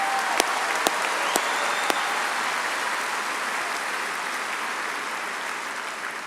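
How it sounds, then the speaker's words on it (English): Applause at a spring commencement ceremony: a large crowd clapping in a broad, steady wash with a few sharp nearby claps early on, sustained and even. "Go ahead and give them a round of applause."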